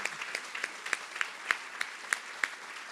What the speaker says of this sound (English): Let's just have a quick round of applause for the people that made this possible.